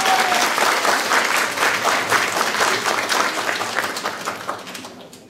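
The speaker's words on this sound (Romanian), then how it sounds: "Din suflet vă rog să-l aplaudați, pentru că merită și echipa." Broad, sustained applause from a village audience at a holiday traditions gathering, loud at first and gradually thinning and fading toward the end.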